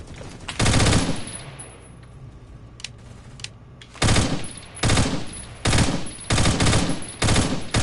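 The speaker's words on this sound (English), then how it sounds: "The FAMAS does not cancel burst" FAMAS bursts in the Phantom Forces video game crack out in loud rapid clusters, one burst early, then a run of several quick bursts in close succession after a quieter pause.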